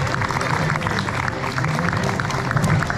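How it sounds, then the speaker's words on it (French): An outdoor crowd claps after an eagle owl flies in a bird-of-prey show at a French wildlife park, steady moderate applause mixed with crowd noise and a speaking voice. "Allez, on va pouvoir applaudir notre ami le grand-duc."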